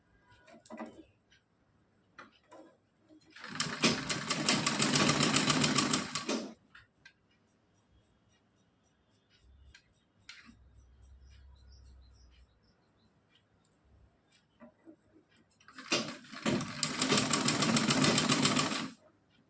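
A sewing machine stitching a net and lace dress runs in two loud, steady bursts of several seconds each, with quieter handling noises in between.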